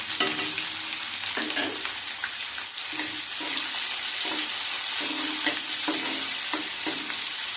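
Finely chopped onions and green chillies sizzle in hot oil, with repeated stirring strokes scraping the pan in a steady rhythm, close and fairly loud.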